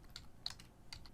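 Faint, quick computer keyboard keystrokes, a few light taps over about a second while a filename is typed.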